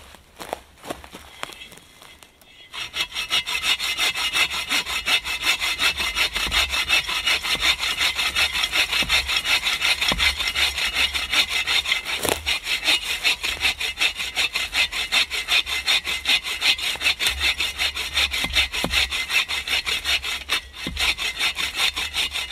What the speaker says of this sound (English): This right here is a good dead standing tree. I'm gonna take it down and use it for firewood tonight.